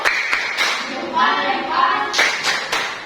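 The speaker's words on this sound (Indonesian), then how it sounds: "Kasih dulu tepuk salut untuk Dinda." A classroom of students performs a short patterned 'tepuk salut' salute clap, with several sharp group claps at the start and end around a brief stretch of voices and light tapping in between.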